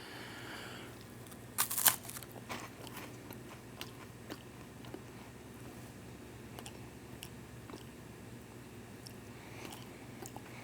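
Someone bites into a piece of freeze-dried meat with a sharp crunch, then keeps chewing quietly with soft, scattered crackles up close.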